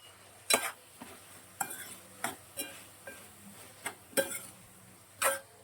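Cauliflower and prawn curry is stirred in a pan, with a spoon scraping in about eight distinct strokes at a fairly regular rhythm over a faint sizzle.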